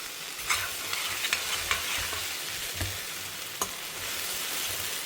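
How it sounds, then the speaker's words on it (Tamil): Okra and grated coconut sauté in a pan, a spatula scraping and stirring in irregular clicks over a steady low sizzle, close and fairly quiet with no talking. "தேங்காய் பூ போட்டுற வேண்டியதான். போட்டுட்டு இப்படி நல்லா பரட்டி விடுங்க."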